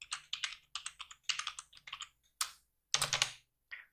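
Fingers typing a password on a computer keyboard in short bursts of quick, close key clicks, separated by brief pauses, with no talking.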